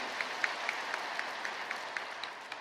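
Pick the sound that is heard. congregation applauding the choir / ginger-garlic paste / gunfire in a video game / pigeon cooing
congregation applauding the choir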